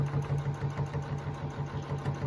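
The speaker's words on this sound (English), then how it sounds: "I've taken it to the sewing machine, and I'm going to sew these sides down" A sewing machine runs steadily as it stitches down the sides of an apron pocket, its rapid rhythmic whirring and needle thumping close and continuous, with no talking.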